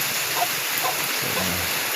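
Steady afternoon rain falls without a break, a dense even hiss at moderate level through the whole stretch with no voices.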